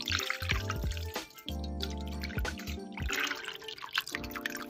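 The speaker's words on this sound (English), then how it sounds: "so I'm going to pour the wax into it" Melted coconut wax poured from a container into a batter dispenser, a close, quiet trickle with repeated drips and short splashy pours, interrupted by brief gaps.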